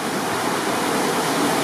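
Water rushes steadily through a narrow stone channel running along a mountainside toward a mill in Penha Garcia. The flow is close, continuous and broadband, with no voices.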